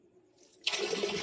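A strong flow of running water at home bursts on after a near-quiet moment and continues as a loud, steady gushing hiss, with no talking.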